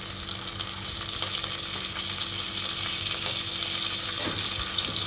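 Fresh mint leaves sizzling in hot oil in a pan while cooking channa biryani: a continuous bright hiss with occasional soft stirring scrapes, close and steady throughout.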